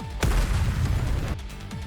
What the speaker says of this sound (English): A loud explosion rings out near the walls of the lift, followed by clouds of smoke